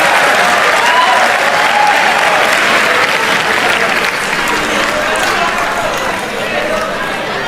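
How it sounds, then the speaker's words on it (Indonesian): An audience claps loudly and continuously at a speech, dense sustained applause that fills the whole stretch and eases slightly toward the end, with voices underneath. "Tepuk tangan untuk kita semua."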